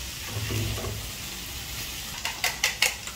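A pan of leftover ampalaya (bitter gourd) is stirred, with a soft sizzle at first and then several sharp scraping knocks of a utensil against the pan near the end.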